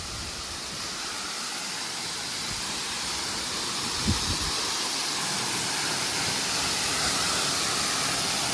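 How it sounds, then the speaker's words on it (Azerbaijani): Avyarud waterfall in Astara, Azerbaijan, heard right at its foot: a dense, unbroken hissing rush of falling water, steady and close, with a brief knock partway through and no talk. "Və bu da şəlalənin düz ətəyindəyəm"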